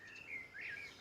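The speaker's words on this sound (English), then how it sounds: "birds chirping." Birdsong plays as an alarm tune in a sleep app on a smartphone, bright chirps and a couple of high tweeting phrases, clear and alone over faint background hiss.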